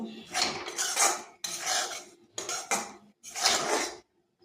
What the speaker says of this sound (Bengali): এভাবে কিছুক্ষণ নেড়ে চেড়ে জল দিয়ে দেব।